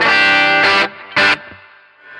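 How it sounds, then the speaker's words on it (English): Electric guitar through an Origin Effects RevivalDRIVE overdrive pedal with its treble knob at 10: a bright, distorted chord rings out and decays, then a second short strummed burst cuts in and fades, heard alone. "And if I put the treble on 10, then it sounds like this"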